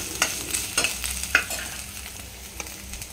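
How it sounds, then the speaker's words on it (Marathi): Spiced tempering sizzles and crackles in a pan while a spoon stirs it, with sharp scraping clicks every half second or so over a steady frying hiss; close and fairly loud, with no talking. "फोडणी छान झाली आपली, आता परतवून"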